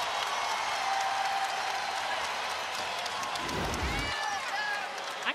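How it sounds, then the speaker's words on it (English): A packed crowd roars in a college basketball arena at Maples Pavilion during an NCAA women's tournament game between Iowa State and Stanford, with sustained cheering heard under a commentator's voice. "And listen to this crowd at Maples."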